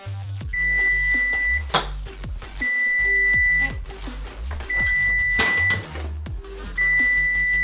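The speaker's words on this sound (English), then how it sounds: "15 seconds till the buzzer goes off." Kitchen timer buzzer sounding in repeated long electronic beeps, four evenly spaced tones each lasting about a second, loud and clear over cooking noise.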